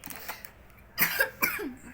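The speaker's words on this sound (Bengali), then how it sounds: "আইসক্রিম খাওয়ার আগে কাশি হচ্ছে" Two short coughs in quick succession, close by, over a quiet, faintly noisy background.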